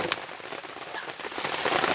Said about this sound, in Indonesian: Hujan lagi.